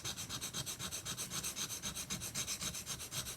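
A steel chisel is pushed back and forth across a sharpening stone, producing a steady, rhythmic rasping scrape of about seven strokes per second, close and fairly quiet with no talking.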